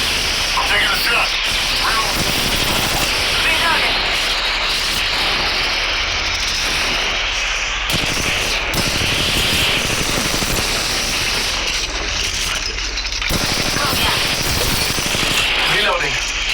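Gunfire in an Apex Legends Mobile match crackles in dense bursts over a constant loud game soundscape, while a voice talks through it.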